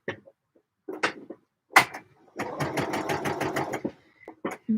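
Sewing machine basting a pair of trousers, a short burst of rapid stitching after some handling clicks and taps, close and clear, then stopping with a few more small knocks.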